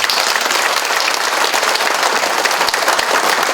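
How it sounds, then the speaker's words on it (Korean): Dense, sustained applause from a seated audience at a closing ceremony for a mayor's visit to Seolseong-myeon, Icheon, loud and continuous throughout with no talk over it. "다 함께 큰 박수로 마무리하겠습니다"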